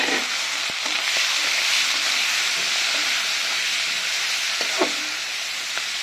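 Beef tripe sizzles and fries in hot oil with fried onions and turmeric, a loud, steady hiss close up, broken by a few clinks and stirring knocks.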